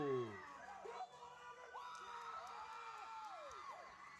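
Wrestling fans at a live independent wrestling show cheer and whoop as a brawl spills outside the ring, a fairly faint, steady crowd roar with scattered shouts.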